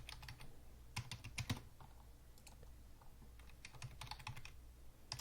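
Keys on a computer keyboard clack in quick, uneven bursts as a new password is typed, with short pauses between runs of keystrokes. The tapping is close and fairly quiet, with no talking.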